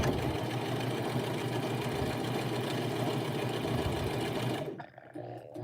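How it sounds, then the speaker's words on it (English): A Brother LX 3817 sewing machine stitches a buttonhole with a steady, fast, close whirring hum that runs continuously before stopping abruptly near the end. "we're going to sew all the way back to that starting spot"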